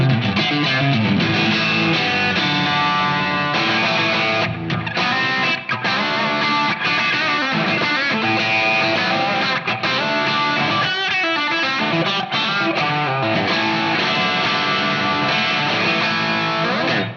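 Distorted electric guitar through a Marshall JCM 800 amplifier pushed by a Cali 76 compressor pedal, a dense continuous riff of chugging chords and sustained notes played loudly and evenly throughout, with no talk.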